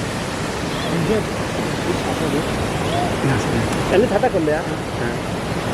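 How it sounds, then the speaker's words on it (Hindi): Steady roar of the Jugni waterfall fills the scene as a constant, loud wash of falling water, with people talking over it throughout. "इस टाइम हम लोग जुगनी वाटरफॉल में हैं"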